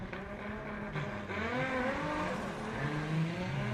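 Formula Drift ProSpec drift race car crossing the finish line during a 2022 battle run, its engine roaring steadily with wavering pitch and tire noise, loud and continuous throughout.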